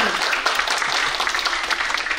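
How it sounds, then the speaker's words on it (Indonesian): An audience claps steadily at an outdoor night stargazing gathering for viewing the Moon and Saturn, a dense, even wash of hands that is loud and close throughout. "Tepuk tangannya dong teman-teman untuk Kak Reski."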